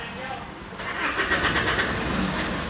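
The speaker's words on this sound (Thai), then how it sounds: "ผมจะทำการสตาร์ทเครื่องนะครับ" An Isuzu D-Max pickup's diesel engine cranks over with a whirring starter, close by and steady, without clearly catching within the short span, after a hard-starting problem.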